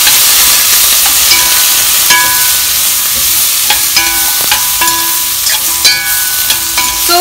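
Vegetables seasoned with salt and pepper sizzle steadily while being sautéed in a pan, with a constant frying hiss broken by light clinks and scrapes of stirring.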